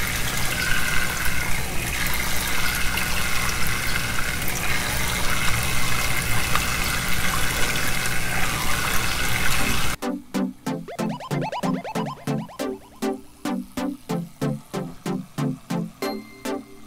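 A hose siphons water out of a planted aquarium tank during a water change, a loud continuous gushing rush that then breaks into rapid, rhythmic gurgling glugs, with no talking.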